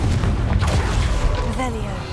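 A Confringo spell blast in the video game Hogwarts Legacy lands as a loud, heavy boom with a deep rumbling tail and scattered debris-like crackles, close and forceful.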